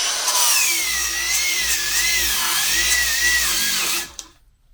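A Harbor Freight Bauer angle grinder whines loud and close under light pressure. Its pitch sags and wavers repeatedly as it bogs down, and then it cuts off abruptly near the end.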